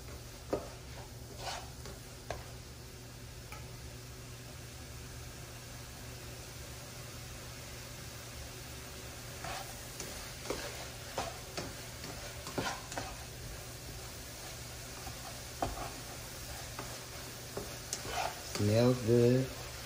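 Beef cooking in a pan for tostadas, a low, steady sizzle with occasional scrapes and clicks, plus a brief voice-like burst near the end.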